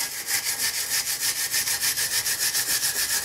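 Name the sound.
wire brush scrubbing a brake disc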